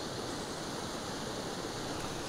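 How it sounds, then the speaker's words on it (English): Waterfall rushing in a steady, unbroken wash of white noise, constant and fairly soft, with no other sounds or voices on top. "But this waterfall is so photogenic."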